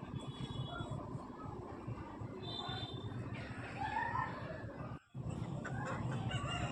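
A rooster about one and a half years old and roughly 3.5 kg crows faintly among soft clucks over a steady, noisy farmyard background, with a brief drop in sound near the end.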